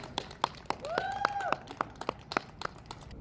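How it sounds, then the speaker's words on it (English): Sparse, evenly spaced handclaps from a small audience at an open mic rally, soft and distant, with a brief rising whistle-like tone partway through. "Give her a round of applause again"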